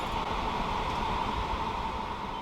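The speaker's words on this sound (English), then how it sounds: "The AC seems to be working just fine." A van's air conditioner runs steadily, a continuous broadband whoosh and hum with no breaks and no voices, filling the whole short stretch at moderate loudness.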